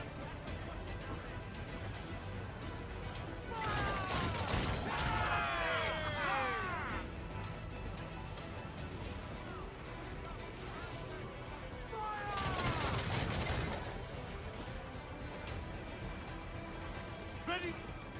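Ship cannons fire in the pirate naval battles of Assassin's Creed 4: Black Flag, in two heavy booming volleys several seconds apart. The blasts ring out over constant sea and battle noise, with voices shouting orders around them.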